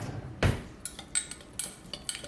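Roasted broccoli seasoned with black pepper and pink Himalayan salt being stirred in a pan, giving one loud clatter followed by several lighter utensil clicks and scrapes against cookware.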